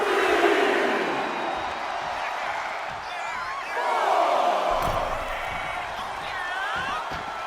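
Wrestling arena crowd in the WWE 2K25 video game cheers and whoops loudly and continuously as a wrestler hypes them up, a steady roar with rising shouts throughout.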